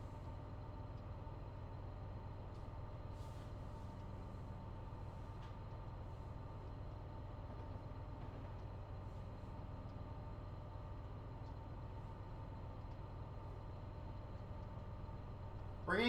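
Low steady rumble from inside the cab of a freight train rolling through Cajon Pass in California, a constant faint drone with no distinct clanks, ending in a brief louder burst.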